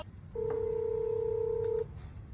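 Incoming-call tone from a Boat Avante Bar 950 soundbar with a built-in mic, a single sustained electronic beep lasting about a second and a half over a quiet room background.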